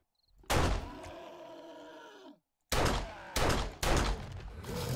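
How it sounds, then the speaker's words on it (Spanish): Loud bursts of gunfire ring out in a long rattling volley, then a pause and several more heavy blasts in quick succession, in the video game 7 Days to Die. "Obviamente los disparos no eran parte del plan."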